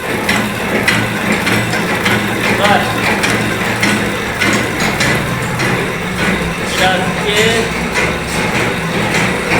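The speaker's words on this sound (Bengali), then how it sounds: "গোচরণে বাতাসা মেশিন ট্রেনিং হচ্ছে।" A batasa sugar candy making machine runs steadily at close range, a continuous mechanical clatter of gears and engine hum with rhythmic ratcheting, while voices talk underneath.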